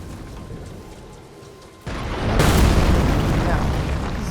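An enemy in Elden Ring fires at the player, giving a sudden heavy boom that swells into a loud, sustained roar and rumble, close and dominant after a quieter ambient opening.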